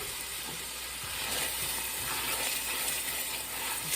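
Diced onions sizzle in a hot pan for chicken Mozambique, giving a steady soft hiss and crackle heard alone at moderate distance.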